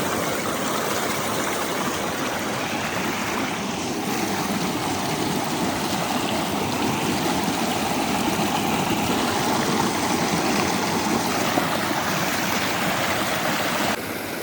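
Mountain water streaming down from the hills, a steady, dense rushing flow that stays loud and constant throughout with no voices.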